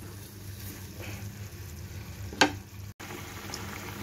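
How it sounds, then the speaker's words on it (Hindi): Chopped raw green mangoes boil in a pot for kacche aam ki launji. The pot gives a continuous soft bubbling and sizzling hiss, close by, with one sharp clink partway through. "कैरी जो है ये उबल रही है"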